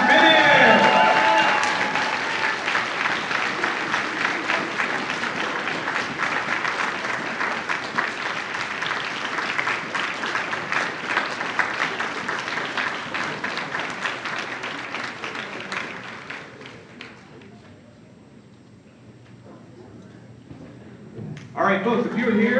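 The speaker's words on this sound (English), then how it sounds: "let's give him a nice round of applause" A convention crowd at Philly Comic Con applauds actor Manu Bennett, a dense, steady wash of clapping and cheering that runs for about sixteen seconds, then fades to a quieter stretch before a brief final burst.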